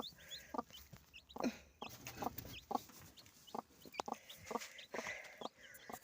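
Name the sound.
broody hen clucking with chicks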